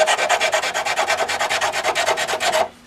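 Sanding block rubbed back and forth over sharp edges of a Kawasaki Ninja motorcycle fairing, a steady rhythmic rasping of about a dozen quick close strokes that stops abruptly near the end.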